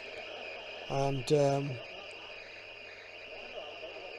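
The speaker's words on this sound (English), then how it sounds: "listen to the interference" Shortwave interference on a TEF6686 receiver fed by an external antenna: a steady buzzing hiss with a constant hum, broken briefly by a faint harmonic voice-like burst near the start.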